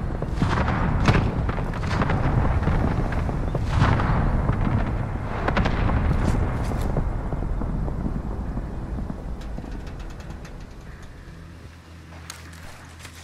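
Gunfire and explosions in Warzone, a dense, loud barrage of booms and shots that continues with occasional sharper cracks and slowly fades toward the end.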